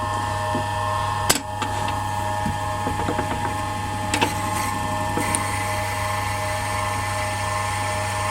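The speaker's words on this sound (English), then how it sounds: "we'll just drill a hole straight through the middle" A steady lathe motor hum with a drill bit in the tailstock cutting through HDPE plastic, brief scraping and clicking bursts breaking over the constant drone.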